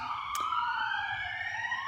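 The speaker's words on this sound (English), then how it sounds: "I hope you guys don't hear that ambulance," An ambulance siren wails steadily outside, its rising and falling tone sustained at moderate distance with no other sounds over it.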